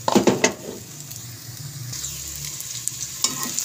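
Stuffed bitter gourd (karela) frying in ghee in a pan, a steady soft sizzle with bursts of stirring and scraping at the start and a brief clatter near the end.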